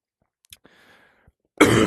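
A few small throat sounds, then one sharp, loud cough bursts out near the end.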